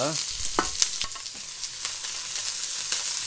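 Garlic and onion sizzle in a hot, thin wok, a close crackling fry punctuated by sharp scraping and stirring strokes at irregular intervals.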